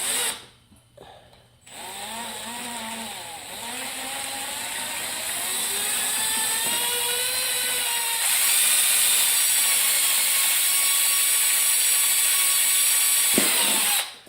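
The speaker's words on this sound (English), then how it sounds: "that's hole number 2, and as you can see, the drill moves a little bit during this" A handheld power drill bores holes into a laptop case, its motor whining steadily for over ten seconds, pitch sliding as it bites into the material, with a ratcheting buzz and a brief stop near the end.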